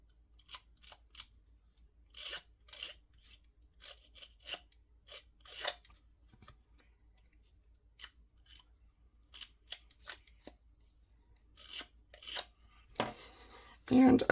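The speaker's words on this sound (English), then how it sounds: "we'll give that a quick distressing" Edges of a paper card are distressed with short, dry scratchy strokes that come in quick, quiet bursts separated by near silence, with a denser rasping flurry at the end.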